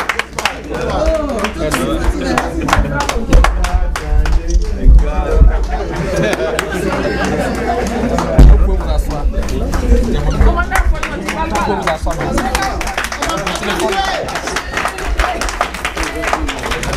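Audience applause at a Côte d'Ivoire community association ceremony in the DC metro area, steady dense clapping over a hubbub of crowd chatter for the whole stretch, with a few louder bursts.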